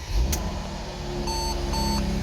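A 2012-2014 Mercedes SLK350 starts and settles into a steady idle, its low engine rumble holding for about two seconds while two short electronic beeps chime over it.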